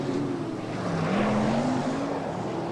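Sprint cars at a 1987 New Zealand championship race at Western Springs roar on a restart, a steady blended engine drone with one rising and falling engine note sweeping across it, heard at a moderate distance.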